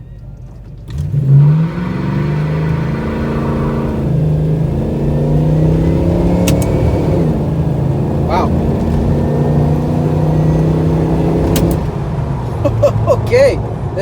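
Boat engine revving up and accelerating hard on the water, a loud, close, sustained roar that climbs in pitch and holds steady before easing, with a brief exclamation from a person aboard.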